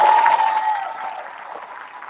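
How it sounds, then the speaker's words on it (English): An audience at an Islamic school event applauds briefly. A tone rings out at the start, then a short wash of clapping fades away within about two seconds. "Can we have a round of applause for that?"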